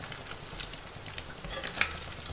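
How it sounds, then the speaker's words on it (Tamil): Prawns deep-frying in hot oil until crispy make a soft, steady sizzling patter close by, with a faint clink near the end and no talk over it. "நல்லா பொரிஞ்சிருச்சு, நல்லா கிறிஸ்பாகவும் ஆயிடுச்சு"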